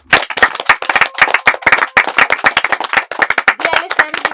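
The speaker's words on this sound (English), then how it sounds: "Give yourself many clapping" Secondary school students clap in a quick, irregular burst of sharp hand claps, close and loud for a few seconds.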